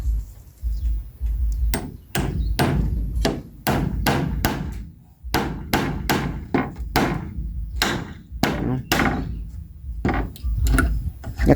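Nails are hammered into a wooden door frame at a house, with loud, close, rapid blows in uneven bursts and brief pauses between runs.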